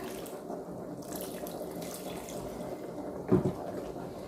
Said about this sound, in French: I'm gonna add water. Just water.